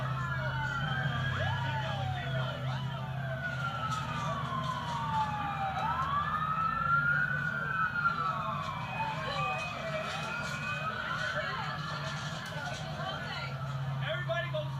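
An ambulance siren wails continuously in rising and falling sweeps through a Manhattan evacuation, steady and fairly loud over a low vehicle rumble and crowd noise, with voices talking throughout.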